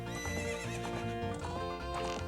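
Horse neighing with clip-clopping hooves in the video game Ocarina of Time: Master Quest, a steady whinny and hoofbeats set against dense background music, continuous and fairly loud, with no talking.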